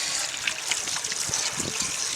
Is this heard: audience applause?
no